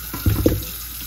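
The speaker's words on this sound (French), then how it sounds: "Je commence d'abord par laver mon macabo. Je lave, ensuite je le mets dans une marmite." Running tap water splashes over macabo being washed in a cooking pot, a brief close burst of a couple of splashy gushes that quickly fade.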